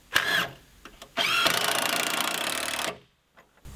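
A power drill drives screws into a workshop wall frame outdoors. A short whir is followed by a longer sustained burst of buzzing motor sound, with a brief tap at the end.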